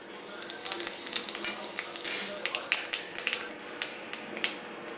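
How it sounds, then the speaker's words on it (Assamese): Whole cumin seeds splutter in hot mustard oil in a pan, a crackling scatter of sharp pops and short sizzling bursts, close and fairly loud, with no one talking. "এয়া গোটা জিৰাখিনি ফুটাৰ লগে লগে"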